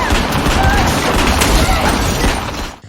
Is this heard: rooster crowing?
no